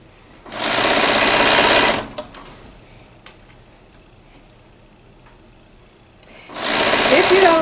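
A home sewing machine stitching fabric in two loud, steady bursts of rapid mechanical whirring, with a quiet stretch of small clicks and handling noises between them.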